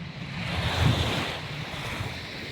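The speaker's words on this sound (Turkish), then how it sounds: "Şu anda sahile geldim. Nefis bir sahil." Surf washing onto a beach in Thailand under steady wind, a broad close roar of breaking waves swelling briefly then easing, mixed with microphone wind buffeting and no voices.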